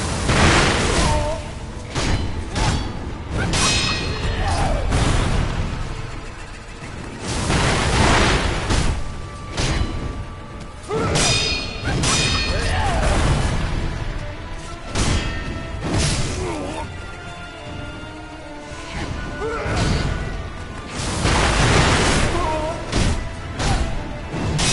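Firecracker prosthetic bursts pop and crack repeatedly during a boss fight in Sekiro, mixed with loud smashing hits, booms and clashing combat sounds throughout.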